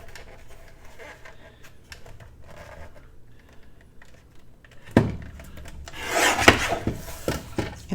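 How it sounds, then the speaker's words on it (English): A scrap piece of paper for a card is trimmed with a few soft scraping strokes close by, followed by a louder, longer rasping cut near the end, no voices. "And I'm just going to trim it off."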